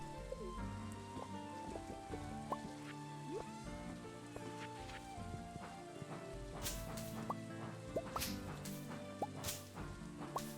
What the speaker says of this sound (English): What the hell is this green rain, by the way?